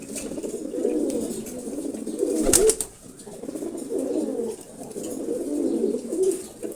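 Male racing pigeons, including a larger foreign-bloodline racer, coo steadily in a loft, their low throaty calls rolling in repeated bursts close by, with a brief rustle or flap near the middle.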